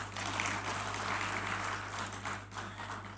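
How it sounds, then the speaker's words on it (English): An audience at a business summit in Ghana gives a round of applause, a full steady wash of clapping that runs through the short clip over a low hum. "a round of applause"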